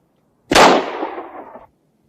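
A single sharp revolver shot cracks at a target, close and loud, followed by a short decaying echo lasting about a second before silence.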